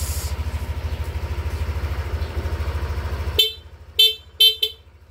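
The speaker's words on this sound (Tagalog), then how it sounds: "Check natin ulit yung busina. Yung busina. Kung gano'ng kalakas." A Yamaha Mio Aerox 155 V2 scooter idles with a steady puttering engine, then the engine cuts and the horn honks three times, loud and close, each beep short.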